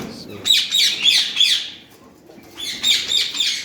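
Parakeets, including a Derbyan parakeet, at a bird farm give loud, close, rapid bursts of shrill chirps and squawks in two clusters separated by a brief lull.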